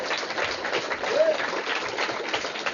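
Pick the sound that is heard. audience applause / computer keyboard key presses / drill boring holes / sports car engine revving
audience applause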